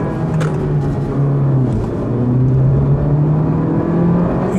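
A Honda Civic with a 1.5-litre turbo engine pulling hard in second gear, heard from inside the cabin as a loud, steady engine drone whose pitch climbs slowly as it revs.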